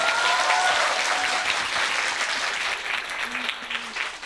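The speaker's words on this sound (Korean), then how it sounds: "박수 한번 주세요." Lecture audience applauding, a thick steady wash of many hands clapping that fills the room, gradually thinning toward the end, with a brief faint tone underneath.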